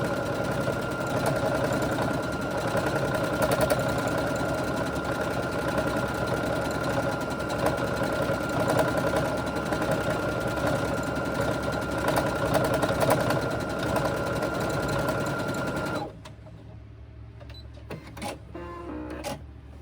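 A sewing machine runs steadily for free-motion quilting and thread painting, a close continuous mechanical hum that stops abruptly near the end, leaving faint clicks.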